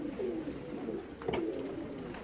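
Soft, low pigeon coos repeating in a gentle rolling rhythm, close by, against faint background hum.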